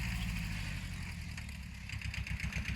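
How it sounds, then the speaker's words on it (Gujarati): Small tractor engine at work in a farm field, a continuous mid-pitched engine chug with a faint knocking pulse, steady and fairly quiet, with no voices. "આજે નાનો ટ્રેક્ટર વાળો ખેતરમાં ચારા બધાઈ રહ્યું છે"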